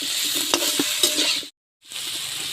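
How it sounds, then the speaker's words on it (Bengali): Apple pieces stir-fried with ginger and cumin paste in a pan, a close bright sizzle with a few spatula scrapes, cut by a brief moment of silence before the frying resumes. "এবার আমি আপেল দিয়ে দিচ্ছি, দিয়ে এখন আমরা কষিয়ে নেব।"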